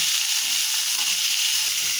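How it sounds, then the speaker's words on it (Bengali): Chilies fry in a pan with oil alongside pumpkin and papaya, a loud, steady bright sizzle and hiss close up that never lets up, with faint low bubbling underneath. "এইগুলোকে ভাজা ভাজা হওয়া পর্যন্ত দেখব।"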